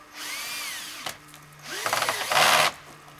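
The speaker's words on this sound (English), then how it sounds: "What I've been doing is just putting a screw in through this PVC." A power drill drives a screw through PVC pipe for a quick homemade greenhouse frame, whirring in a short burst, pausing, then revving harder in a louder second run with some clicking before stopping.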